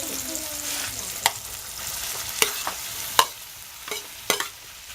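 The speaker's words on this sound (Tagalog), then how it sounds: "saute the pork until it slightly changes color, or it has a brownish color" Pork sautéing in a frying pan with tomato already melting into orange liquid, a bright close sizzle broken by several sharp scraping stirs and clacks at irregular intervals, no voices.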